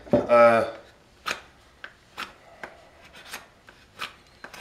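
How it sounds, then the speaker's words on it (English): A handmade knife ground from a circular saw blade takes shavings off wood in a series of short, rasping scrapes, about eight strokes spaced irregularly, close and moderately loud, with a brief burst of talk at the start. "It'll take stuff off. I mean, it's taking some shavings off."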